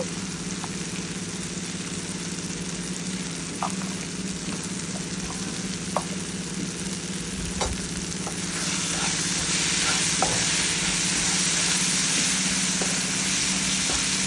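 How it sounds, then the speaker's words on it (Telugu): Tomato curry sizzles and fries steadily in a pan while being stirred, a continuous close hiss with occasional light scrapes and clicks of the spoon, growing slightly brighter partway through. "బాగా మిక్స్ చేసుకోవాలి మనకి టమాటా అనేది బాగా గుజ్జుగా మెత్తగా అయ్యేంత వరకు ఫ్రై చేసుకోవాలి"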